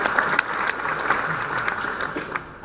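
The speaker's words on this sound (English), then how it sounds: "Another round of applause for Mr." Audience at a business breakfast claps for a guest, a moderately loud burst of applause with a few faint voices underneath, sustained briefly without fading.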